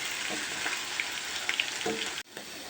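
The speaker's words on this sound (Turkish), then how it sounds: "Soğanla biberini de kattım. Biraz da sıvı yağ kavuruyorum." Onion and pepper sizzle in oil in a pan, a continuous close frying hiss with a few soft clinks of a utensil and a brief dropout near the end.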